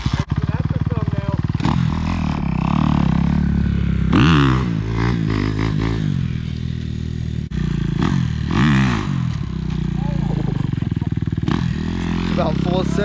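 Kawasaki motorcycle engine revving loud and close, with rising and falling throttle sweeps over a constant idle rumble for the whole stretch.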